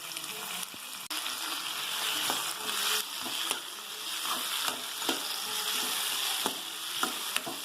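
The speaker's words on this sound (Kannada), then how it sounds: "ಮೆಣಸಿನ್ಕಾಯಿ ಮತ್ತು ಟೊಮೆಟೊ, ನೋಡಿ ಹಾಕೊಂಡು ಸ್ವಲ್ಪ ಕೆಂಪಾಗೋವರೆಗೂ ಫ್ರೈ ಮಾಡ್ಕೊಳ್ಳಿ." Onion, green chilli and tomato frying in a pan for mushroom masala curry, giving a steady close sizzle with occasional clinks and scrapes of a spatula stirring, and no talking.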